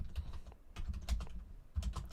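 Quiet typing on a computer keyboard, irregular bursts of key clicks with short pauses and a soft low thump on some strokes, close by and with no talking.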